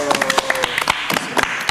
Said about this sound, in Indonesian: Tepuk tangan buat Vindes.